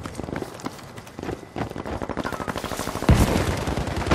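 Gunfire in the Battlefield V shooter on PS4, rapid bursts of shots that grow louder and denser, with a heavy blast near the end and a fast rattling rhythm throughout.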